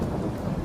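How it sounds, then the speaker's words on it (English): A thunderstorm in the farming game Farming Simulator 22 gives a steady, loud, broadband roar of rain with deep low rumble underneath, continuous and dense with no pauses and no speech. "that thunderstorm is raging"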